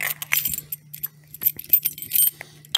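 Keys jangle at an apartment door in scattered metallic bursts, close and fairly loud, with a low steady hum underneath.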